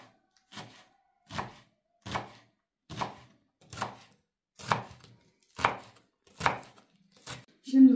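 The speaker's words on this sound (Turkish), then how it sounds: "Ne kadar ince doğrarsak o kadar güzel olur." Knife finely chopping onions, peppers and parsley on a board, about ten evenly spaced, crisp close strokes in a steady rhythm with quiet gaps between.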